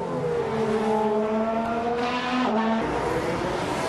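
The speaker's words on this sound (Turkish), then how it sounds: "Sakir pistindeki büyük mücadelede motor sesleri ilk olarak antrenman turları ile yükseldi" Formula 1 cars circling the Sakhir circuit in Bahrain during practice laps, with steady, loud high-revving engine whine that rises and shifts pitch as cars pass continuously throughout.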